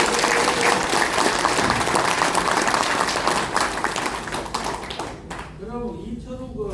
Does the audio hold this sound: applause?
yes